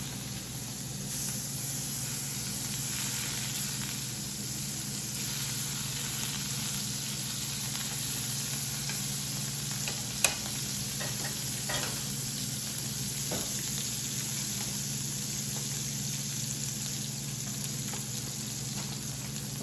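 An egg in a hole, bread with an egg in its centre, frying in butter in a pan, a steady even hiss and sizzle close up, with a couple of faint utensil taps and no speech.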